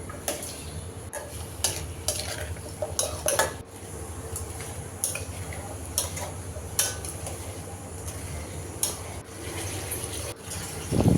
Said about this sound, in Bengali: মশলা কষিয়ে নিয়ে কেটে রাখা আলু দিয়ে দিলাম